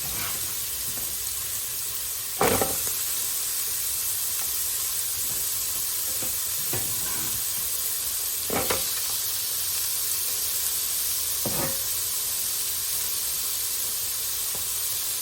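Onion and carrot hit a hot pot for a broccoli chicken soup, giving a steady close sizzling hiss with a few sharp crackling bursts as pieces drop in.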